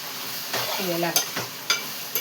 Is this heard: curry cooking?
yes